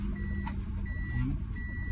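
A car's seatbelt-unfastened warning chime beeps in a steady repeating pattern over low engine rumble inside the cabin during a first driving lesson.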